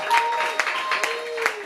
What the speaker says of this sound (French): Clap for Jesus Christ.